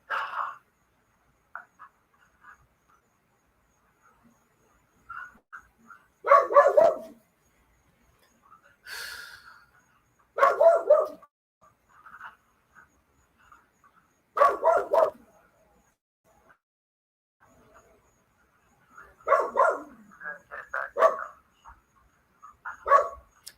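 A dog barks in several loud, short bursts spaced a few seconds apart, with quieter yips and a little voice activity in the gaps between them.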